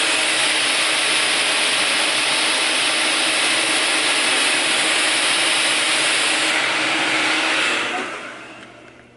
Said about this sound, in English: And then I take the dryer.